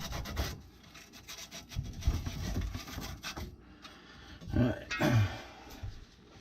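A copper kitchen sink drain pipe is sanded before soldering, with uneven rubbing and rasping strokes close by and a couple of louder scrubbing bursts near the end, while someone speaks quietly at times.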